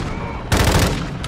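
A sudden loud burst of automatic gunfire in the Call of Duty: Modern Warfare 2 campaign, lasting about half a second over a noisy battlefield backdrop.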